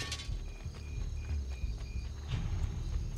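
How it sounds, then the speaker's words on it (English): Horse hooves clip-clopping in Assassin's Creed 2, a faint, evenly spaced walking rhythm of light hoof strikes over a low rumbling game backdrop, with no talking. "I need to get a horse. There's a horse right there."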